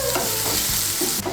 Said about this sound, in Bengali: পেঁয়াজটাকে বাদামি করে ভেজে নেব।